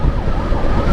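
An escorted emergency ambulance carrying a patient sounds its siren, a loud continuous wail up close amid road and traffic noise.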